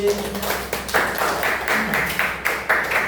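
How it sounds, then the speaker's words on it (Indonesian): Students clapping in a high school classroom during a religious education lesson, a short scattered patter of hands in several loose bursts, with faint voices around it. "Tepuk tangan Mbak Mary."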